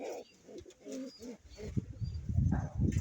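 Soft, low cooing from a dove or pigeon repeats in throaty bursts, close by, over light rustling background noise.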